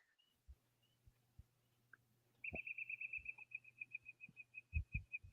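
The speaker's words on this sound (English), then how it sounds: "that sounds like a mockingbird" A mockingbird calling outdoors, a rapid run of repeated high chirps starting partway in and continuing to the end, over a faint low hum and a few soft thumps.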